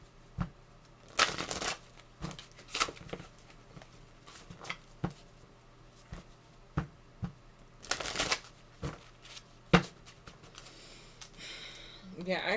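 Tarot cards shuffled in repeated bursts of crisp riffling and slapping, close and fairly loud, separated by short pauses, with a person talking at times in between.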